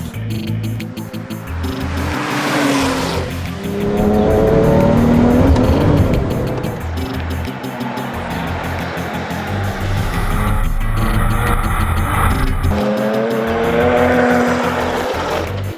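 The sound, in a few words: sports car accelerating on wet track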